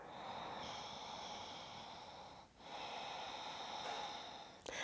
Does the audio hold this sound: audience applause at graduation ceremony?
no